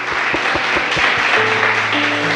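A church congregation applauds in a continuous wash of clapping over a steady rhythmic beat and sustained keyboard tones.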